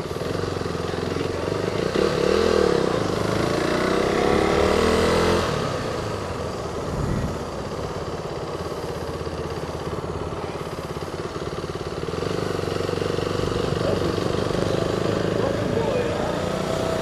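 A KTM Duke 390 motorcycle on a test ride at a KTM event, its engine droning steadily throughout with a rising rev in the first few seconds, mixed with wind rush and some talk.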